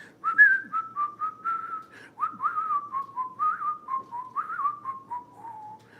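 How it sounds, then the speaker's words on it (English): A person whistles a tune from Snow White alone. It is a quiet, close melody of short, bouncy notes that flows without pause for about six seconds. "I used to do the little whistle part in Snow White"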